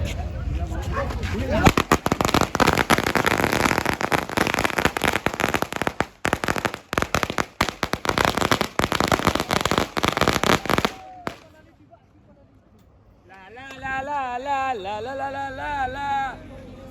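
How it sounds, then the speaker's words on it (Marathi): Firecrackers go off outdoors in a long, dense, loud string of rapid bangs during a pilgrimage walk, then stop, followed by quiet and chanting voices. "तर आता आपण फटाके लावतोय"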